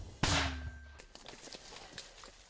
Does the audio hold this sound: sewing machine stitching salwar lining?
no